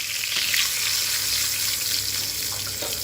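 Melted butter sizzles in a pan as a dense, even hiss that stays close and constant throughout, with no voices.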